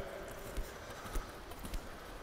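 A horse canters under dressage training on the flat, its hoofbeats landing as soft, dull thuds in a steady three-beat rhythm over a constant hiss of background noise.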